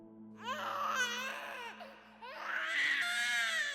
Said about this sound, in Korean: 어느 날 잠을 자려고 하는데 아기 울음소리가 앙칼지게 들렸습니다.